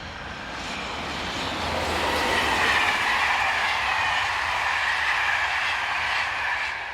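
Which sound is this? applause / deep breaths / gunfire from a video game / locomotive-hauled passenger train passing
locomotive-hauled passenger train passing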